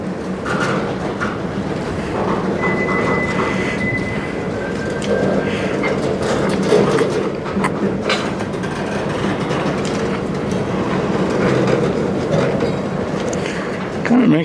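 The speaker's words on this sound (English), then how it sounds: "The train's not even halfway" A CN freight train rolls past slowly at night in Sarnia, Ontario, with continuous rumbling and rattling wheels, a long unbroken passage at close range, with a brief faint whistle-like tone.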